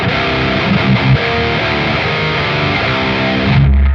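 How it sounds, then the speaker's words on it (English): An electric guitar played through a GE250 pedal's distortion channel with boost, loud and saturated chords and riffs ringing continuously, then cutting off sharply at the end. "Let's go over to the distortion and boost this guy"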